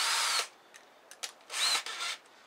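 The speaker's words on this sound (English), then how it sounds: "let's see if we can get these to self-tappers to self-tap." A power drill drives self-tapping screws into a snowblower impeller, with two sustained whirring bursts separated by a few brief clicks and short buzzes, close and fairly loud, with no talk.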